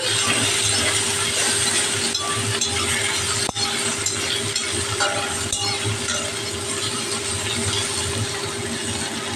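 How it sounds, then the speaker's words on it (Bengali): Chopped ginger and tomato stir-fry in a pan, with a steady dense sizzle and scraping stirring clatter going on continuously up close, with no talking. "আদাগুলো দিয়ে একটু কষাবো"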